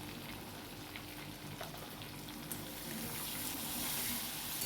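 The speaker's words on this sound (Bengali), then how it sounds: "তো দেখো এখানে আমি নুন হলুদ দিয়ে দিচ্ছি, এটা দিয়ে আর একটু ভালো করে নেড়ে চেড়ে তারপরে মশলাটা দেবো।" Katla fish curry frying in a pan with salt and turmeric while being stirred, giving a soft, continuous sizzle with faint scraping that rises slightly toward the end, with no talking.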